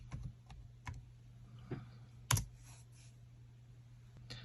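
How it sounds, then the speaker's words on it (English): Typing on a Chromebook keyboard: a few quiet, scattered key clicks with one sharper tap near the middle, close but faint over a low steady hum. "you're going to type in to the taskbar Google"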